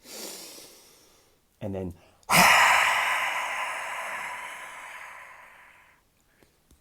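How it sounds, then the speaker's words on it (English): Breath work: a short spoken phrase, then a strong, rushing breath drawn in through the nose that tapers off over several seconds, loud and close to the mic. "So breathing in through the nose,"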